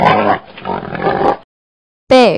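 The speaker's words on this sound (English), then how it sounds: "Pig." A pig oinks with a run of rough, close grunts lasting over a second, then after a short pause gives one loud, sharp squeal.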